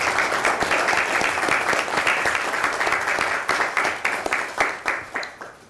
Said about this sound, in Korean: 건강하시라고 박수 한번 보내주시기 바랍니다